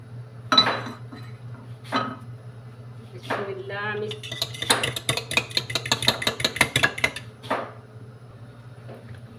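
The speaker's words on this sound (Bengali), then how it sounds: "তো আমি এখন এইটা ফ্রাই প্যানে এটা বসাই দিলাম।" A frying pan set down on a home stove, clattering and clinking metallically in a quick burst of knocks and scrapes, close by, with a short spoken word beforehand.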